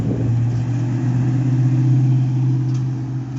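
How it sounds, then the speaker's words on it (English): A car engine and road noise hold a steady, loud low drone close by as a car pulls out in front of a truck, with no other sounds standing out. "you just pulled right out in front of that truck"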